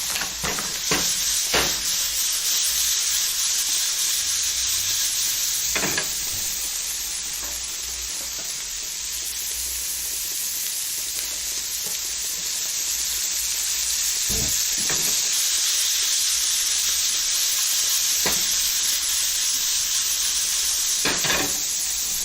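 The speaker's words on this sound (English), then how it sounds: "Sizzle, sizzle. I like that sizzle." Shrimp for shrimp scampi sizzling loudly in a hot frying pan, a constant bright hiss with a few clinks and stirring scrapes now and then.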